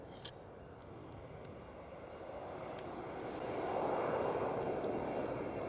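A KLM Cityhopper Embraer E190 jet at Schiphol, Amsterdam, rumbling at a distance as a broad engine roar that gradually swells louder toward the end, with no voices present.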